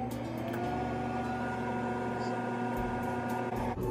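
A microwave oven runs with papad laid on tissue paper inside, puffing without any oil; a steady, close electrical hum continues evenly throughout with a faint rattle.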